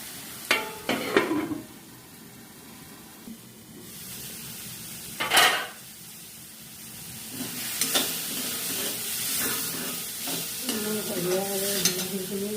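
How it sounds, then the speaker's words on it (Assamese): Tomatoes frying in a pan with white mustard for a chital fish curry: a soft steady sizzle broken by sharp spoon or spatula scrapes and clatters against the pan at irregular intervals, with no voices. "বিলাহীখিনি দি খুব ধুনীয়াকৈ ভাজি ল'ম।"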